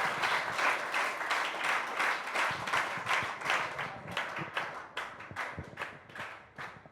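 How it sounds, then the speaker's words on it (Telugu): An audience at a jurists' lecture series claps to welcome the lecture speaker, a steady round of applause that gradually breaks into fewer, sharper individual claps as it dies down. "మీరు మీ చప్పట్లతో ఆహ్వానించాల్సిందిగా కోరుతారు"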